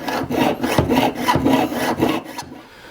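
A fine-toothed jeweler's saw rasps through metal in steady, even back-and-forth strokes, loud and close, stopping near the end.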